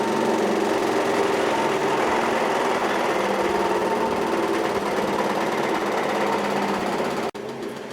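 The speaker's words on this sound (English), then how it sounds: "So I tried the chipper first" A Barker 612 chipper shredder's small engine runs loud and close with a steady high buzzing drone and rattling vibration, continuing unchanged for about seven seconds before cutting to a quieter idle.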